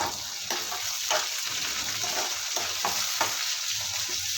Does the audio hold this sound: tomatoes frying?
yes